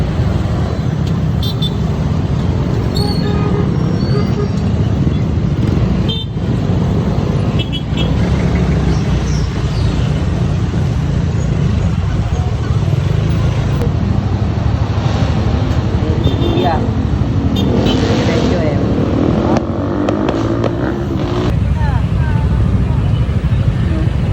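Heavy road traffic rolls past on a highway toward Calamba, trucks and cars passing close in a steady, continuous roar with occasional horn toots, while people talk over the noise.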